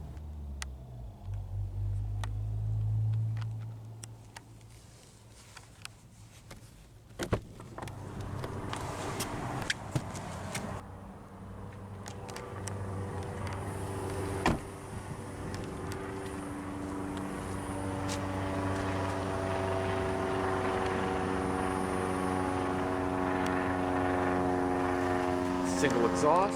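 A 2016 Ford F-150 XLT SuperCrew engine with single exhaust fires up, then settles into a steady, droning idle that grows fuller and louder toward the end, with a person talking early on.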